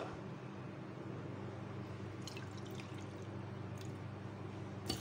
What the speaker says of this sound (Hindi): तो पानी मैं इसमें डालूँगी